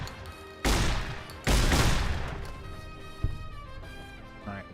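Two loud gunshots crack close together in Fallout: New Vegas, each with a long, fading echoing tail, followed by a fainter single thud and quieter trailing sounds.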